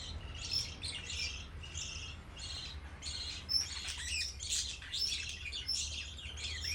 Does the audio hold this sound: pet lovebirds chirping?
yes